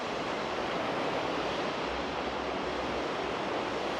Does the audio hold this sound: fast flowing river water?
yes